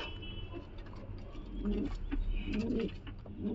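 A pair of giribaz pigeons, male and female, give low throaty coos, two or three soft bursts close by amid faint scratching and rustling.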